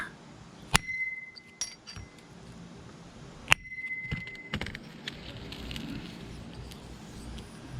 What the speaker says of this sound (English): So I'm just going to take a socket, put it like around there, and give it a whack.